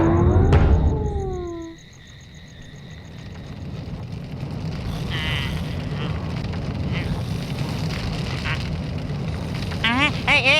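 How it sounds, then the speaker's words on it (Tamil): Cartoon fire engulfs a house with a steady roaring crackle that swells and keeps burning, opening with a few swooping comic tones and ending in brief warbling effects. "வீடெல்லாம் பத்திக்கிச்சு."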